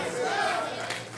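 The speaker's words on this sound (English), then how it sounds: "No, you don't have to applaud." An audience at a speaking event cheers and applauds in a loud, sustained wash of clapping and voices, with no pause through the short stretch.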